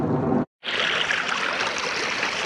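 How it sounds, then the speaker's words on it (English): Water rushes steadily out through a broken beaver dam in a loud, continuous broadband gush. There is one brief dropout near the start. "Letting a pretty good bit more water out."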